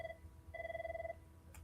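A telephone rings for an incoming call, two electronic trill bursts with a brief pause between, fairly faint over low room hum.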